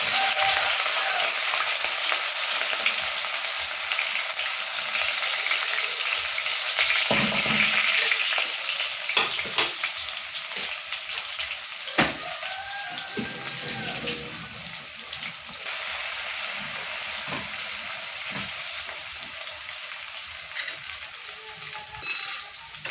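Ginger garlic paste sizzles steadily in hot ghee as a breakfast dish of Lahori chickpeas is started, a constant bright frying hiss with a few faint clinks and stirring sounds and no talk.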